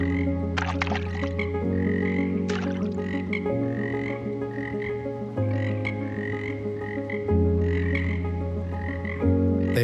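Marsh frogs (Pelophylax ridibundus) croak loudly and continuously, a chorus of rattling, pulsing calls with overlapping voices, close and clear with no speech.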